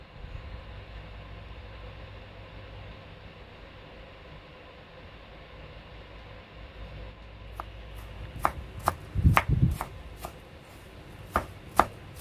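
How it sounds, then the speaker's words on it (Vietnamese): An onion chopped finely with a knife on a board, a run of sharp, quick knocks that starts after a long quiet stretch and comes in an uneven rhythm, close and clear. "Mình cũng sẽ sắc nhỏ nhỏ như hạt lựu nha các bạn."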